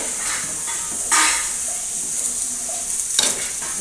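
Tamarind juice poured into sizzling ragda masala in a pan, a sharp burst of hissing steam when the liquid hits, then steady frying with stirring and a second hiss near the end.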